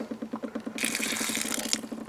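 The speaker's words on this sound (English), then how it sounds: "if you can hear that, it's already dripping in the bucket." Water dripping and splashing into a bucket beneath a Worm Inn worm bin during watering, a steady rhythmic patter joined midway by a brief, brighter rush of trickling water, close and moderately loud.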